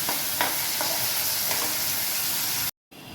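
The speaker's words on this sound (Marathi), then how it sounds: "डाळिंब्या 1-2 मिनटं तेलावरती परतून घेते" Steady sizzling of shelled field beans (dalimbya) frying in hot oil, a continuous crackling hiss with a few light stirring scrapes, ending after a brief cut.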